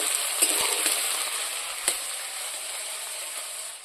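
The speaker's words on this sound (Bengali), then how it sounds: "পেঁয়াজ ভাজা হয়ে গেছে" Onions frying in a pan while meat is being cooked, a steady bright sizzle close to the mic with a few sharp clinks of a utensil against the pan.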